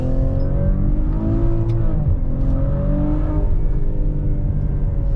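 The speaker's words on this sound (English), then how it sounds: "it's got that exhaust note that definitely gets you excited" A steady, deep Maserati Levante SUV engine drone from inside the moving car, with a low throaty exhaust rumble that rises and shifts in pitch as the vehicle accelerates.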